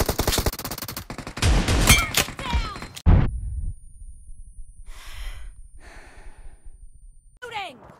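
Gunfire in the mobile shooter BGMI/PUBG, with an M416 rifle and S868 double-barrel shotgun in use: loud sharp shots crowd the opening seconds under excited talk, followed by quieter scattered game sounds and voices.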